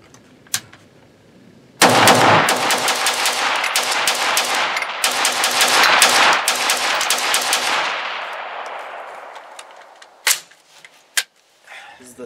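A Steyr AUG rifle with an H-bar barrel fires full auto on adverse gas using 55 grain Tula ammunition, with a loud, fast burst of rapid cracking shots lasting several seconds, then a couple of isolated single shots.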